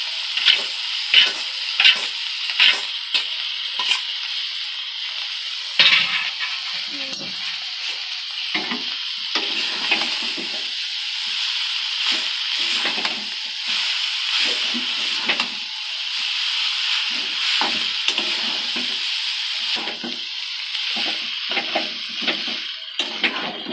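Chow mein noodles stir-fried in a pan, a steady broadband sizzle with repeated scraping strokes of a spatula throughout, close and fairly loud with no talk.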